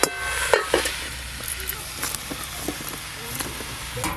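Red amaranth greens hit hot oil in a frying pan, giving a steady hiss of frying with sharp clanks of stirring, fairly close, and a voice speaking briefly.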